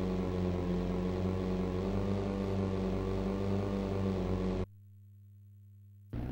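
Racing boat engines turn around a buoy in a boat race, a loud steady droning whine rich in buzzing tones that abruptly drops to a low hum near the end.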